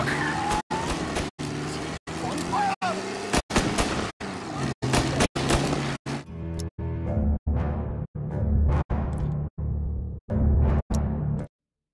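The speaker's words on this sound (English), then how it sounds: "Another motor coming after the booze truck." Loud car engine roaring and revving continuously, broken by regular sharp cuts, with a strained, tire-squealing edge like a racing vehicle, a car chasing a truck during an ambush in the game Mafia: Definitive Edition.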